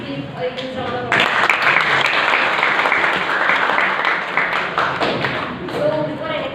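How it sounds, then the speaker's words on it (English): A room full of students and staff bursts into loud applause at a college department's Women's Day celebration, starting after a brief voice and continuing as sustained close clapping with some thumps, fading slightly as a voice returns near the end. "Please give a huge round of applause."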